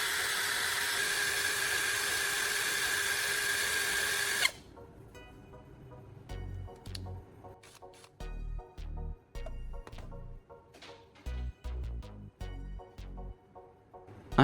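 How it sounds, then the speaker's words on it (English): A power drill spins a tip against sandpaper with a loud, steady grinding whir for about four seconds, then stops abruptly, leaving scattered quieter knocks and clicks. "safely insert it into my drill chuck and spin it against some sandpaper"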